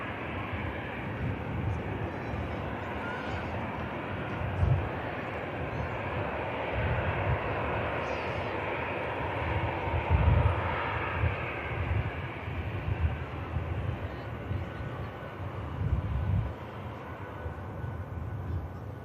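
An ITA Airways airliner taxis in at Manchester Airport. Its engines make a steady, broad rumble at moderate distance, with gusts of wind noise and slow swells in loudness throughout.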